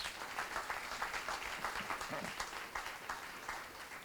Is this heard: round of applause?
yes